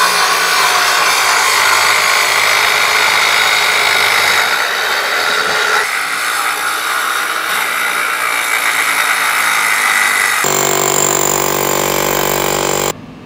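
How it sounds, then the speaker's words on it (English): A saw cuts a slot through wood during a home electrical service upgrade, a loud, steady rasping drone that runs continuously with shifts in pitch and no talk. "I'm gonna cut the same slot either way, see what I run into"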